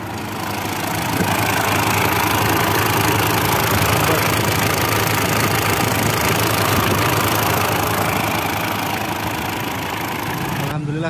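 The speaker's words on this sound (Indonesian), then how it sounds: "Cek mesinnya." Diesel engine of a used Ford Ranger T6 or Mitsubishi Triton pickup truck running steadily at idle, loud and close, a constant rumbling drone from start to finish.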